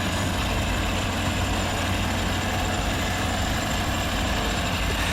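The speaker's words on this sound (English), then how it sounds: "while the high horsepower diesel engine delivers relentless torque" A bulldozer's high-horsepower diesel engine runs with a dense, steady rumble and broad mechanical roar that is loud and unbroken throughout, with no voices.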